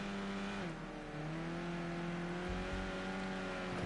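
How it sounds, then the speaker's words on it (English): Race car in a racing sim at the Nurburgring, engine revving steadily and loud as the wheels spin up struggling for grip, a continuous droning tone with a brief dip in pitch before climbing again. "You can hear the car actually struggling for grip out there, spinning up the wheels."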